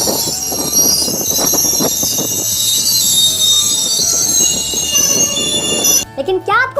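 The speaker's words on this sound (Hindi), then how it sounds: "दोस्तों जब ट्रेन रुकती है तो आपने गौर किया होगा कि ट्रेन से एक साउंड प्रोड्यूस होती है" A braking train gives off loud, sustained metallic wheel squeal as it slows to a stop, with grinding rail noise throughout and sharper squeaking tones near the end.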